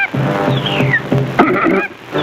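A tick bird riding on a rhino calls in a run of loud, nasal, honking cries that repeat irregularly, with one rising-and-falling whistle-like note among them, close and dominant.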